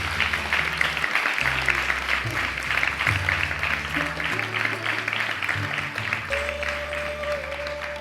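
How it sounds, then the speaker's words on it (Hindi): An audience at a Hindu devotional discourse claps in a continuous, even wash of applause, with sustained musical tones underneath throughout. "आपकी ताली बहुत सुस्त है।"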